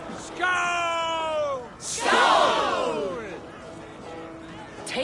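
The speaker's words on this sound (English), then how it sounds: "Join the battle cheer." Viking warriors in an Assassin's Creed Valhalla battle, with two loud, sustained bellowing shouts and whooping yells rising and falling, followed by quieter crowd voices.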